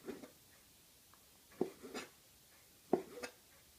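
A knife slices raw lamb across the grain into thin strips for stir fry, giving a few soft, quiet cuts, each a short slicing stroke against the board, spaced more than a second apart.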